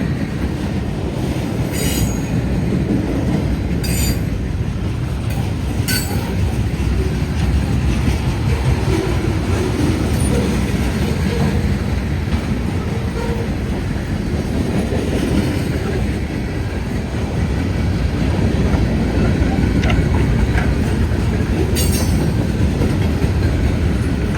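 A Conrail freight train rolls past close by, with a continuous heavy rumble of railcars, steel wheels squealing at intervals and faint clacking over the rails. No one speaks.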